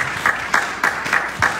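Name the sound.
congregation applauding in church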